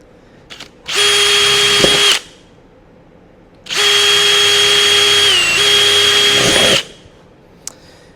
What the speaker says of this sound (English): So I'm just drilling these holes.